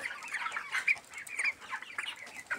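Broiler chickens cluck and chatter in a crowded hot shed with no power for fans, a steady overlapping flock murmur of short cackles, fairly close and continuous without pause.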